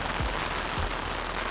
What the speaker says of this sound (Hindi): लेकिन बारिश बहुत ही ज्यादा हो रही है